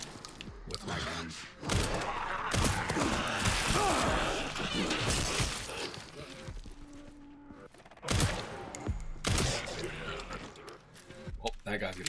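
Gunfire in the survival horror game Resident Evil Requiem, a run of loud sharp shots and heavy impacts packed into dense bursts with short lulls, some blasts close and harsh, a voice talking over parts of it.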